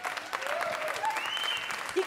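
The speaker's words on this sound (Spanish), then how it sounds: "Fuerte el aplauso para ellos" An audience applauds a cumbia funk band at a Costa Rican televised music show, with brief clapping mixed with voices and a rising whistle-like tone.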